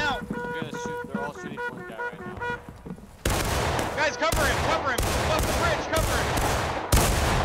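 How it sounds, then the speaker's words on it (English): Musket fire crackles in a multiplayer video game battle with bayonets, first over a quieter stretch with musical tones, then a loud run of overlapping volleys and sharp shots that stops and restarts several times, with brief pauses between bursts. "They're all shooting one guy right now."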